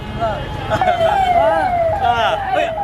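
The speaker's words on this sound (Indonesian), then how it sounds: "Ambulan cuy." An ambulance siren wails, rising and falling steadily over loud traffic noise, sounding fairly close throughout.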